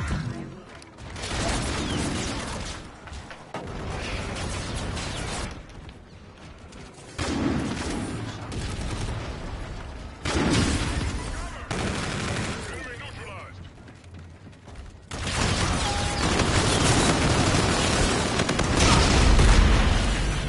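Gunfire from the futuristic shooter Call of Duty Infinite Warfare comes in loud, sustained bursts, stopping and restarting in several long volleys over layered game noise, with a player's voice heard now and then.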